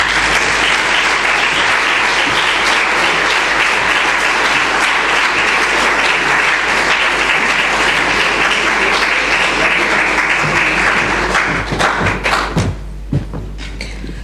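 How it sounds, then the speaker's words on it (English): Sustained, loud applause from a lecture audience at the William G. Demas Memorial Lecture, a dense wash of clapping that holds steady for about eleven seconds before thinning into a few scattered claps and fading out. "please join me in giving Mr. Steele a warm, rousing round of applause"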